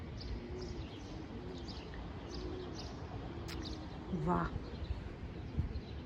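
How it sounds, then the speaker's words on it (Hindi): Birds chirp and twitter faintly in Zurich, with short calls scattered through steady outdoor background noise, one brief louder call standing out near the end and a single spoken exclamation. "परिंदों के चहचहाने की आवाज़ें आ रही हैं"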